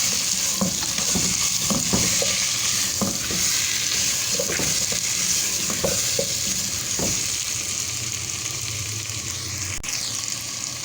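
Potatoes and bell pepper are stirred with crushed spices in a frying pan. A loud, constant sizzle carries repeated close scraping and clacking strokes of the spoon, which thin out toward the end, with no voices.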